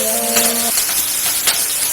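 Curry leaves and green chilies hit hot oil in a brief, loud burst of hissing sizzle that stays steady and close for under two seconds.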